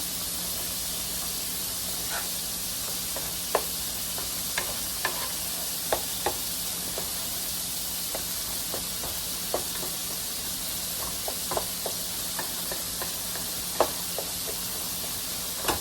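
Dirty rice sizzles in a hot pan with a steady hiss while a utensil scrapes and clicks through it in scattered strokes, close and unaccompanied by voices.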